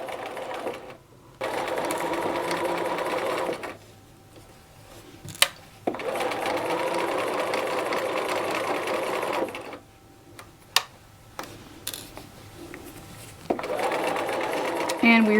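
Home sewing machine stitching a chunky, gathered knit sleeve cuff through several layers, running in steady bursts with short pauses between runs, while a voice talks over parts of it.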